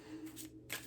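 A deck of tarot cards is shuffled by hand, giving quick, soft riffling bursts and a sharper flick near the end, close and quiet with no talking.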